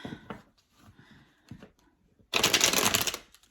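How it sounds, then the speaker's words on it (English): A deck of tarot cards is shuffled nearby, with a few soft taps and rustles before a quick, crisp riffle of flicking cards lasting about a second. "I'm gonna shuffle these cards a little bit."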